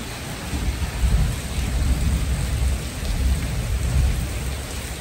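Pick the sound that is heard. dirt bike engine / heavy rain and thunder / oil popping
heavy rain and thunder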